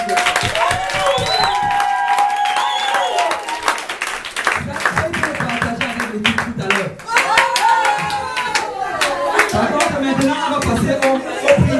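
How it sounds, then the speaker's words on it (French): Audience applauding the winning team at a prize ceremony for a Bible quiz game, with dense clapping sustained throughout and voices talking and cheering over it. "Si on peut applaudir."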